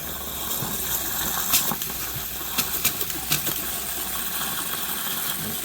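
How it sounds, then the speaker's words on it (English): Hot water running from a tap after descaling a Furrion tankless water heater with the water pump on: a steady, moderately loud rushing flow with a few sputtering bursts of air, near and alone. "And turn on some hot water."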